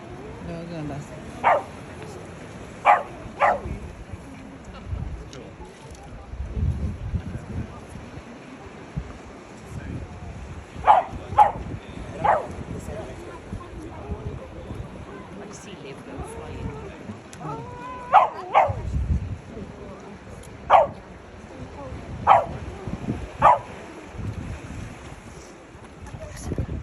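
A dog barks in short bursts of two or three at Mousehole beach in Cornwall, sharp, fairly close, repeating across the stretch, with wind noise and people talking between barks.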